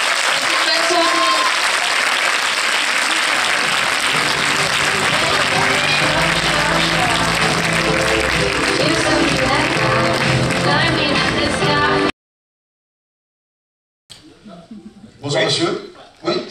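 Loud, sustained applause from a cinema audience at a film premiere, filling the room for about twelve seconds before a brief silence, then a short stretch of voices and scattered sounds.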